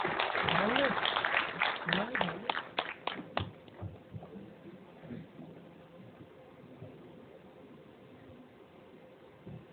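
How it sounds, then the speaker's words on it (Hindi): An audience applauding a minister of state for housing and urban affairs at an Ambedkar Mahaparinirvan Diwas event, dense clapping at first that thins into scattered claps and fades out. "जोरदार ताली बजाएं"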